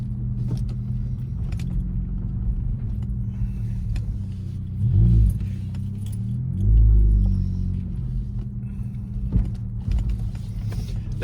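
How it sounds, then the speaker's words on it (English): A Honda Civic with a performance exhaust idles with a low, steady rumble up close, swelling twice as it starts moving, with faint clinks and mechanical rattles around it. "It's a loud car anyway because it's a performance exhaust"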